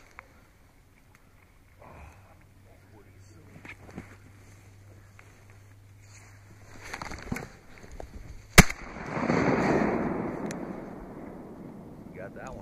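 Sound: shotgun shots while duck hunting

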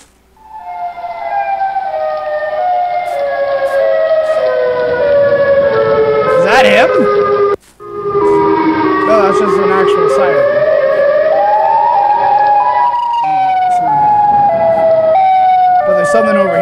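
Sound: siren wailing in a video game

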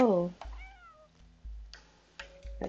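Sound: cat meowing in the video game Stray

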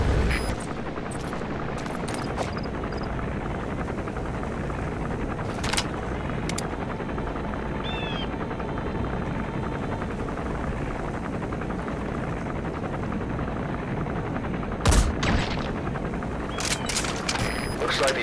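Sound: helicopter flying in Metal Gear Solid V video game

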